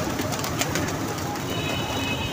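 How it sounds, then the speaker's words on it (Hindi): Pigeons at a pigeon club beneath a tall 70-foot net enclosure, giving soft continuous cooing mixed with dense bird calls and ambient noise, steady throughout with no clear speech. "ये माशाल्लाह अच्छे अच्छे कबूतर हैं।"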